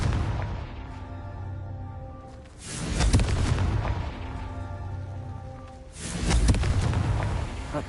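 Two deep booming explosions from the Confringo fire spell in Hogwarts Legacy, each a loud rumbling blast that swells and slowly fades, spaced about three seconds apart with no talk.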